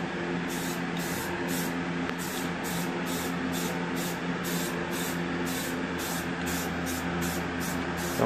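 Continuous hiss of a metallic smoke-tint spray can coating 26-inch chrome wheels, steady and close, with faint regular pulses riding the spray throughout and no talking.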